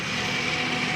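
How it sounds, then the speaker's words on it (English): A lawn mower runs steadily in the background near a motorhome, a constant mid-loud engine drone with a faint high whine and no breaks. "That's a lawnmower in the background"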